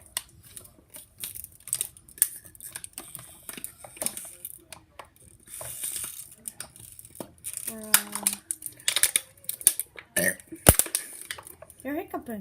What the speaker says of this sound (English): That's burping